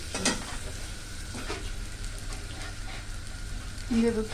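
Potatoes sizzle steadily in hot oil, with a few stirring clatters and a light scrape near the end, heard close without any talking.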